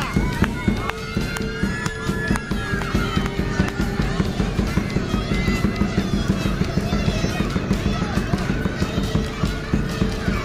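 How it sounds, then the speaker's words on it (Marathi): Children clapping together during a musical chairs game at a first-grade sports event, a dense, steady patter of many hands continuing throughout, with voices and crowd noise mixed in. "टाळ्या वाजवा मुलांनी क्लॅप टाळ्या वाजवा"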